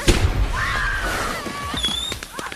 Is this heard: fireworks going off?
yes